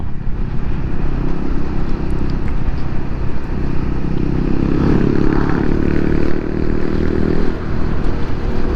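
A Yamaha Xmax scooter fitted with an aftermarket exhaust drones loudly and steadily while accelerating to overtake on the road, with a thick, continuous engine rumble and wind roar and no pauses.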